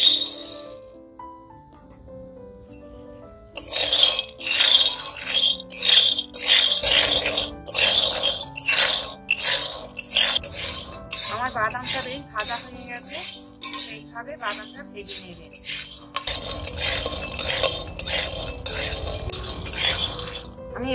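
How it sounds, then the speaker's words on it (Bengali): 250 grams of peanuts dry-roasting in a pan, stirred continuously, giving a dense, busy rattle and scrape of nuts against metal that starts after a quiet opening, over steady background music. "আমি বাদামটা আগে ভালো করে ভেজে নিই।"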